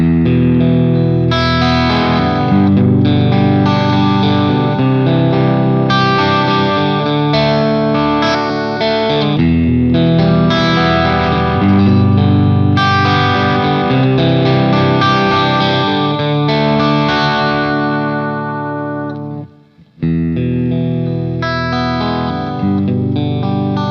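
A guitar loop plays back from a NUX JTC Drum & Loop Pro pedal, a loud, chorused and slightly distorted chord pattern repeating steadily, cutting out briefly near the end before resuming.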